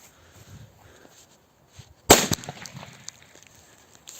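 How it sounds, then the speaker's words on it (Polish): A single firecracker goes off outdoors a few metres away with a sharp loud bang, followed by crackling and a fading echo after a quiet lead-in. "to nie jest aż taka mocna petarda, żeby się tym tak przejmować, że ona sobie tam lekko strzeli"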